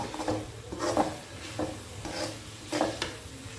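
A spoon scrapes through onion and chili masala sautéing in a pan in slow, regular strokes about once a second, each a soft, close rasp over a faint sizzle.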